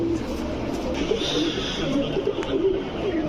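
Pigeons cooing softly in a pigeon shop, steady overlapping low coos under a constant hum of background noise and indistinct voices.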